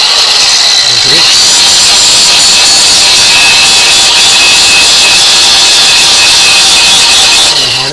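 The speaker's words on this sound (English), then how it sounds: "I usually use an angle iron, or you could use anything that's abrasive to try to clean off some of the paint and" An abrasive tool grinds paint and rust off the metal of a HMMWV in one loud, harsh, continuous scouring burst that runs close and steady throughout.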